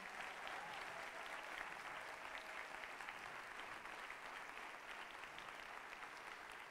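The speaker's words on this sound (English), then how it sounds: "Can we please hear another roaring round of applause for Naga?" Sustained applause from an audience at a Bharatanatyam arangetram dance debut, a dense, even wash of clapping from many hands that continues throughout at moderate distance, with no voices.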